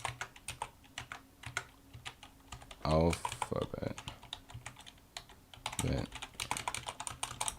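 Keystrokes on a computer keyboard clatter in quick irregular bursts during a CTF session, fairly close, with a brief voice cutting in midway and another short spoken moment later.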